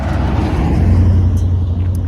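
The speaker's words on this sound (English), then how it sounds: "And there's a truck coming, FedEx truck. It's going to get noisy here." A FedEx delivery truck rolls past close by, a loud, steady low engine rumble with road noise, heard alone without any talking.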